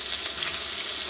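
Onion paste frying in oil in a karahi gives a steady, close sizzle with fine crackle and no pauses for a little over a second, with no voices.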